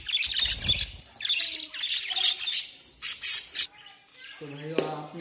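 Lovebirds kept in a breeding setup with clay pots let out sharp, close squawks and chirps in irregular bursts, loud and overlapping, with brief pauses between calls.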